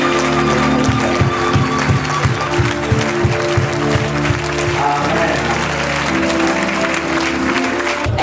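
Applause from a church congregation in Brussels, loud and sustained with rhythmic clapping over a crowd murmur and voices.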